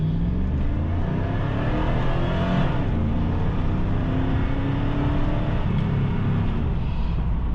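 A Rolls-Royce Phantom accelerating hard through a pull, its engine giving a steady, loud, continuous drone with rising tone and road rumble, no talk over it.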